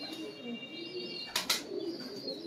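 Kasuri pigeons cooing softly at close range, a few low murmuring coos with a couple of brief sharp rustles or flaps midway, faint and alone.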